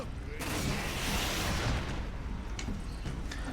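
Grenade explosions in Warhammer 40k: Space Marine video game, a sustained rumbling blast with noisy debris wash, followed by a few sharper thuds.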